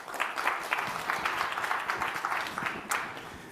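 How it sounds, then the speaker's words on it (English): An audience applauds a presenter at a biotech conference on antibody engineering, a steady patter of hand claps held for several seconds at moderate level, with no talk over it. "please give him a warm round of applause for his presentation"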